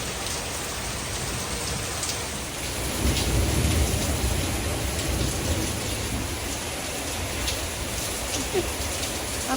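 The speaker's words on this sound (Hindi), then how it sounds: "आप क्या देख रहे हो? बारिश?" Steady rain pours down outdoors as a dense, loud hiss that stays constant throughout, swelling slightly partway through.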